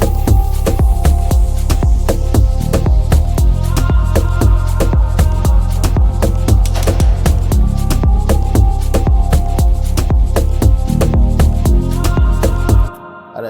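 A bass guitar number 1 line from Kepler drives an Afro house mix, dense and loud, deep notes moving steadily under busy percussion before cutting out at the end, no talking.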